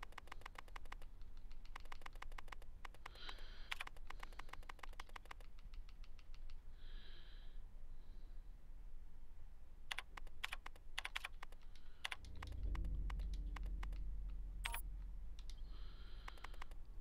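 Rapid bursts of clacking typewriter keys in the survival horror game Daymare 1998, irregular runs of strikes with brief pauses and a deeper thud near the end, no talking.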